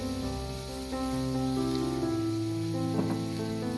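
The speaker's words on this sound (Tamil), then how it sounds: "பாருங்க, நல்லா இந்த மிளகும் பூண்டும் நல்லா பொரிஞ்சிருக்கு" Garlic cloves and black peppercorns fry in a pan over a low flame, giving a steady, close sizzle that crackles faintly throughout with no voices.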